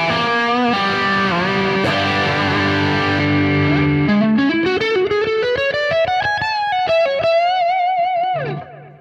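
Electric guitar played through a high-gain amplifier on channel two with the boost turned off, heavily distorted and sustained: thick chords give way to a rising run of quick single notes, loud and close, with no talking.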